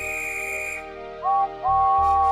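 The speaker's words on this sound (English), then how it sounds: "The guard's whistle blew," A train guard's whistle gives a sustained tone, then shifts into two shorter rising whistle notes, loud and close amid a steady musical backdrop.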